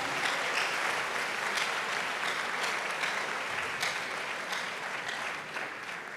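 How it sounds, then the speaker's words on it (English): A large audience at a university public lecture applauds in a thick, continuous wash of clapping that holds steady and eases off only slightly toward the end. "A round of applause, ladies and gentlemen."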